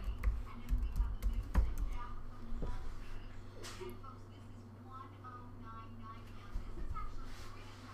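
Keystrokes on a Mac keyboard as a password is entered, a sparse run of soft clicks fairly close by over a low steady hum, with a couple of sharper taps standing out.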